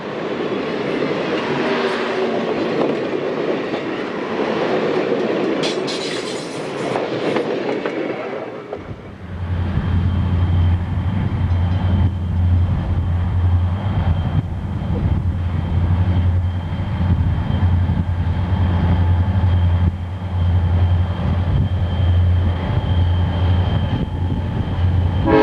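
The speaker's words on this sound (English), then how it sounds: "Rio Grande SD50 number 5517 led a westbound empty coal train with 2 borrowed Santa Fe" A Rio Grande SD50 diesel locomotive, number 5517, leads a westbound empty coal train with two Santa Fe SD40-2 units, a deep steady engine drone and rolling rail rumble building after a quieter windy opening and holding loud and close.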